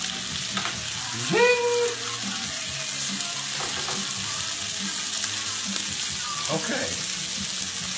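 Steaks fry in a hot pan with a steady, bright sizzle that runs loud and unbroken throughout, while a voice briefly speaks over it.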